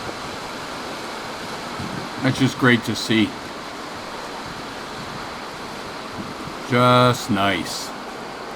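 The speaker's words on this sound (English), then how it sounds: "And the east branch of the Rocky River, she's flowing pretty nice." The east branch of the Rocky River at Hinckley Lake flows as a steady, even rush of water throughout, with someone speaking briefly over it twice.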